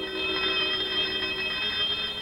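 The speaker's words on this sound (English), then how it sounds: "An alarm." A radiation hazard alarm aboard a nuclear icebreaker sounds as a steady, continuous electronic tone with a shrill, ringing quality, unbroken throughout.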